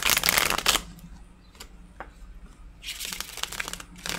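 Tarot cards are shuffled in quick riffling bursts, a loud close flurry at the start and another near the end, with quieter handling and soft taps between.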